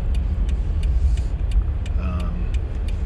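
A car moving in traffic, heard as a continuous low road and engine rumble with faint periodic ticking on top.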